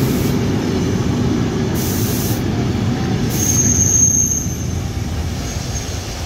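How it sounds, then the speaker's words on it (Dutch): A Dutch Intercity train rolls along steadily with a dense low rumble and wheel noise, joined briefly by a thin high squeal midway. "De volgende trein is een reguliere Intercity."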